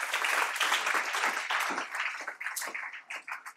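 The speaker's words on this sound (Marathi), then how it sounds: "जोरदार टाळ्या." An audience bursts into loud, dense applause, a thick wash of many hands clapping together that thins into scattered individual claps toward the end.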